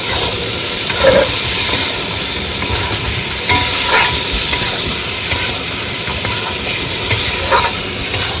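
Fish hisses and sizzles in spiced masala in a frying pan, a steady close frying noise with a few stirring scrapes and clatters of a spoon against the pan.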